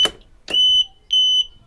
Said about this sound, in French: ça sonne quand il y a une coupure de courant